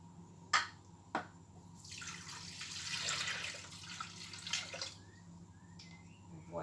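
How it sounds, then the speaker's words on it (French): One litre of water poured into a Thermomix bowl, a steady broad splashing pour swelling through the middle and tapering off, preceded by a couple of sharp knocks. "vous allez ajouter 1 litre d'eau"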